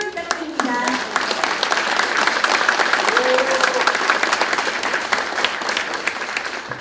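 Audience applause at a policy forum on fishing-boat safety and maritime accidents, sustained and dense clapping from a crowd filling the room, with a brief voice near the start.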